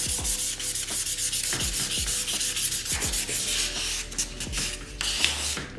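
Oxidized plastic headlight lens being wet sanded by hand, a close, continuous rhythmic rubbing and scrubbing with regular back-and-forth strokes and no talk.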